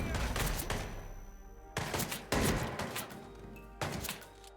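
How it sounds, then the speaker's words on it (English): Blind-fired gunshots in the video game Hitman 3, with a few heavy blasts separated by short gaps. Each shot is loud and booming, with a ringing tail, and a voice speaks faintly underneath. "Blind firing."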